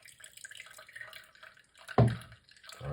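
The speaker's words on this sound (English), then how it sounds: "so we're gonna run it through our strainer just like this" A homemade drink poured through a strainer, with a short splashing gush at mid-clip and a second pour starting near the end, close and fairly loud against a quiet background.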